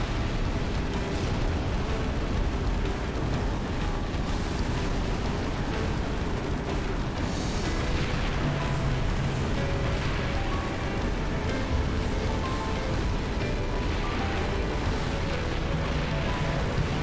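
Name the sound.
Scarab exploding in the video game Halo 3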